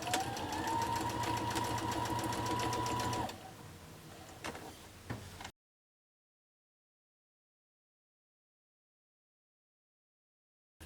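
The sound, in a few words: sewing machine stitching quilt block sashing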